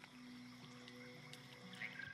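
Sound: frog croaking softly in Baldur's Gate 3 video game

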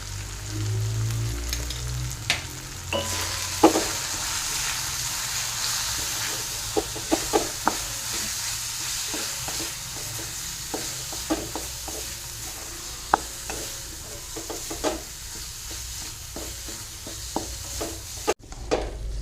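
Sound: masala being sautéed in a pan for paneer masala

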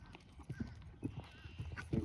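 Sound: horse hooves during a jumping lesson

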